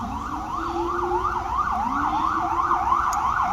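Emergency vehicle sirens wail in a fast rising and falling pattern, a second lower siren sweeping beneath, heard at moderate distance over steady road rumble.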